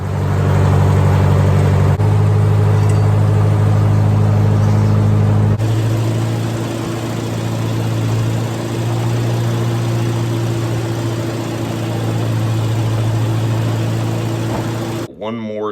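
A Massey Ferguson 50 tractor engine runs steadily nearby, a low throbbing drone that shifts pitch slightly after a few seconds and holds until it cuts out abruptly near the end, with someone talking at times.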